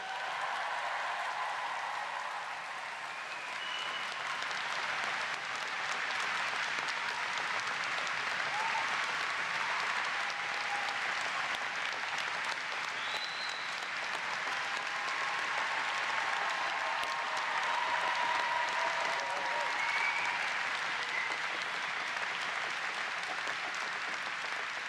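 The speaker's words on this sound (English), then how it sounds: "Let's have a great Dundee cheer." Graduation ceremony audience at Dundee University cheering and applauding together, a dense sustained wash of clapping with scattered whoops and shouts running steadily for the whole stretch.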